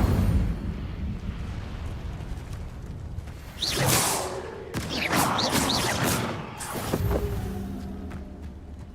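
The Incendio fire spell is cast in the video game Hogwarts Legacy, a loud fiery whoosh and crackling burst that swells in the middle of a rumbling game soundscape.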